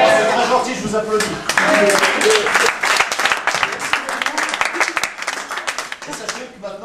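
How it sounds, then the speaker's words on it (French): A studio audience on a French sports show breaks into lively clapping after a football guest's appearance, starting under a voice and then thinning into scattered, sharper claps near the microphone. "Applaudis."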